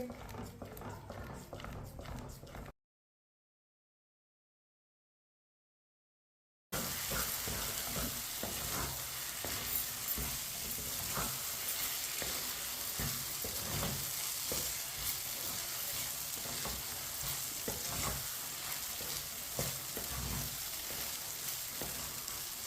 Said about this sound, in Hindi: इसे ऐसे ही चम्मच चलाते हुए अच्छी तरह पका लेना, गाढ़ा होने तक पकाना इसे